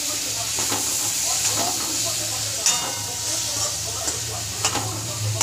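Tomatoes dropped into a hot pan for a quick onion-tomato chutney, giving a steady broadband sizzle with soft stirring clicks and a low background hum throughout.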